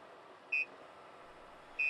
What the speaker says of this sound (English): As it approaches a slower moving vehicle, a single beep is sounded